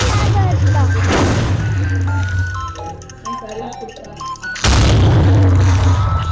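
Two loud, booming blasts in a video game, separated by a stretch of electronic tones and beeps; the second blast sustains into a heavy rumble.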